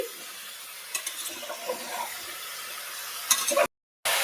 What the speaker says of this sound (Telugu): సో ఇలా ముక్కలు వేసుకున్నాక ఇలాగా బాగా మిక్స్ చేసుకోవాలి